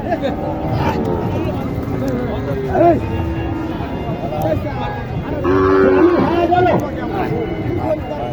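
A Nepali crossbreed cow moos several times at a cattle market, low drawn-out calls rising above a steady murmur of nearby voices and background chatter.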